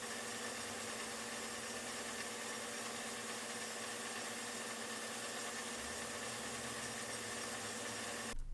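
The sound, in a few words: lathe turning a long part, slow feed, high RPM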